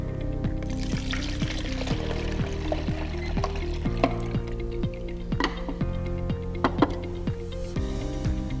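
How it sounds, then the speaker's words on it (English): Used film developer chemical being poured out during darkroom photo processing, a continuous liquid pour with steady splashing and trickling, fairly close and moderately loud, with no talking. "So now that we're done with the developer, we need to pour it out."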